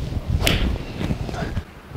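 A golf iron, a Nike VR Pro Forged 6-iron with a polymer-filled pocket cavity, strikes the ball once in a single sharp crack on a practice range, with faint background rustle and no talk.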